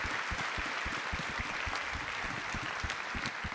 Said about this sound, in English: let's start the conference by welcoming each other with a big round of applause.